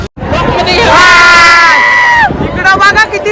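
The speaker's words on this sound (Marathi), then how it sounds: "आता शाकीर बाईची मुलाखत घेणं काही शक्य वाटत नाही जाम गर्दी झाली" A dense crowd at a village fair in Pedgaon roars and shouts together, a sustained swell of cheering and babble that peaks loudly then breaks into scattered nearby voices.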